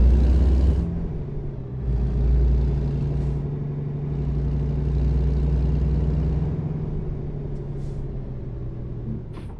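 Kenworth W900 truck in American Truck Simulator, a steady low diesel engine rumble droning close and loud throughout as it pulls away and drives, with no voice over it.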